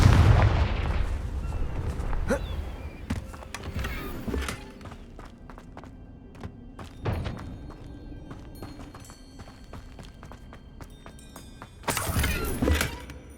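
Confringo blast spell cast in the Hogwarts Legacy video game: a loud burst at the start, then a scatter of sharp crackling impacts and a second strong explosive blast near the end.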